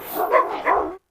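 A Rottweiler barks twice in quick succession, loud and close, and then the sound cuts off.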